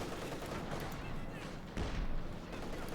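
Scott self-propelled howitzer bombarding in the video game Company of Heroes 2, dense overlapping bursts of gunfire and blasts with a heavier boom near the two-second mark, layered with ongoing battle noise.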